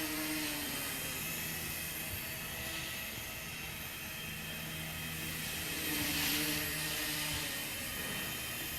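A small Walkera V100D03 RC helicopter flies steadily nearby with nicked main blades, giving a continuous high whine and buzzing rotor drone with slight vibration, swelling louder as it passes close, with no talk.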